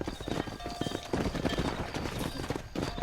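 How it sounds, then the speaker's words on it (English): A horse in the Red Dead Redemption video game, rhythmic clip-clop of hooves at close range with a brief neigh, busy and steady over a few seconds. "Vamos levar este cavalo"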